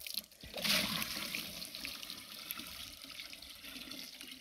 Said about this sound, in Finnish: Sieltä sitä vettä tulee.